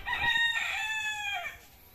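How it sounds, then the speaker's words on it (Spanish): A chicken, likely a rooster or hen, crows out in open countryside: one loud, drawn-out harmonic call lasting about a second and a half, close by, tapering off at the end with no talk over it. "ahí viene una gallina, miren"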